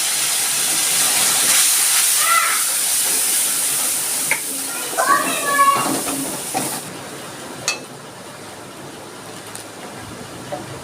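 Water and spices including turmeric, coriander and cumin powder hiss and sizzle in a hot pan while small fish and water spinach curry cooks, a steady loud hiss that settles down after a few seconds, with a few light clinks.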